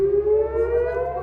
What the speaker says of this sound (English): sirens warned of another wave of Iranian missiles